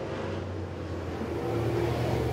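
Race cars at Volunteer Speedway in a sportsman feature during a caution period, engines droning in a steady broad roar that rises slightly in pitch, heard at a moderate distance.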